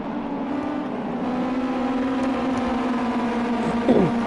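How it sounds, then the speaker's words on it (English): A Ginetta Junior race car with a 6-speed sequential gearbox drones steadily at a held engine pitch on the Donington National circuit in the racing game Project Cars 2. The engine is close and continuous, with no voices. "Lovely engine sounds there from the 6-speed sequential gearbox that these cars have"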